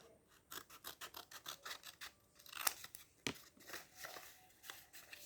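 Scissors snipping through paper in a quick run of close, crisp cuts, about a dozen rasping snips in steady rhythm, with no voices.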